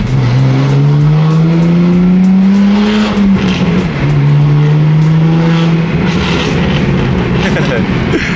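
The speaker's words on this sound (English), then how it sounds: "It's so hard to drive this freaking car." A stick-shift car labors up a steep driveway, its engine note rising and straining loud and close, dipping briefly mid-way before climbing again, with occasional voices over the motor.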